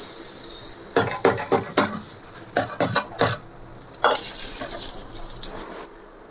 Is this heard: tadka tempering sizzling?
yes